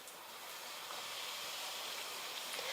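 Wheat-flour puri frying in hot oil, a steady close hiss and sizzle holding even and unbroken throughout, with no voices.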